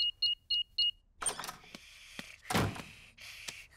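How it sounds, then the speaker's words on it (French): In a Peppa Pig cartoon, a house alarm keypad gives four quick electronic beeps, followed by several clicks and thunks from the door and mechanism, fairly quiet. "Je vais d'abord désactiver l'alarme."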